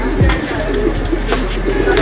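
Racing pigeons arriving at the loft after a race, soft cooing and fluttering close by over a steady low hum of wind, with faint voices in the background.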